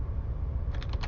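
Typing a command on a computer keyboard while configuring a Cisco router, a few quick keystrokes tap out near the end over a steady low background hum.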